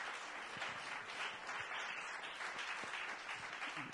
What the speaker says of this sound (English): Big round of applause for the folks at Real Artways.